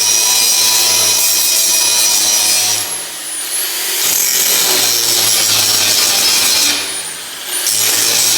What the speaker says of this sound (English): just grind him off there